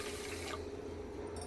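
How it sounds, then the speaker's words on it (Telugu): A quarter litre of water is poured onto sugar in a pot while making kesari bath, a soft, quiet, continuous trickle and splash heard close up with no talking. "చక్కెర వేసిన తర్వాత ఒక పావు లీటర్ నీళ్ళు"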